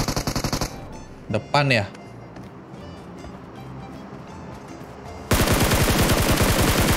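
Automatic gunfire in PUBG Mobile comes in two rapid bursts, a short one at the start and a louder, sustained one near the end. A player's voice speaks briefly in the quieter stretch between them.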